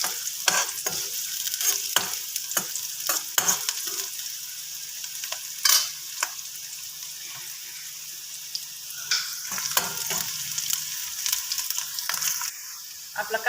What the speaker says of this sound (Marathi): कांदा लाल होऊन द्यायचा थोडा।